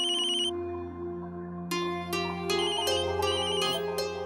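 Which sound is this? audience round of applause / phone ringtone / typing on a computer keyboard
phone ringtone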